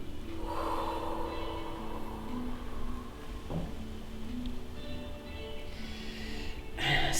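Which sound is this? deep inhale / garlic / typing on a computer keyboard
deep inhale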